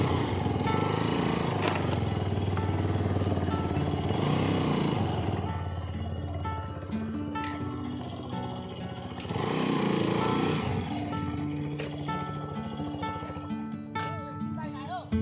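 One scooter and two motorbikes riding together near Sindhuli Gadhi, engines droning and revving up close with rising and falling swells while people talk over them.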